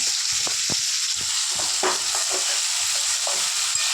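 Tomatoes fry and sizzle in a pan under a steady hiss, with scattered scrapes and knocks of a spoon stirring them through the short stretch.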